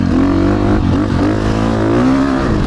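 KTM dirt bike engine revving in sand, a loud close buzzing drone with wavering pitch that dips briefly and climbs again across a few seconds.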